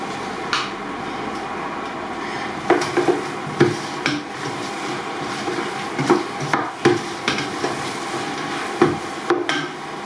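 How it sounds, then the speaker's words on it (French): A spoon knocks and scrapes in a pot as tomato paste is stirred in for mussels basquaise, with irregular clustered taps and clunks over a faint kitchen hum. "on va y mettre 2 cuillères de concentré de tomate"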